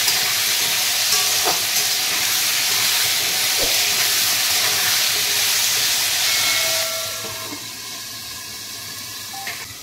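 Potatoes fry in a pan with a steady broad sizzle and hiss, a few light clinks of stirring, and the sizzle drops quieter near the end as if covered.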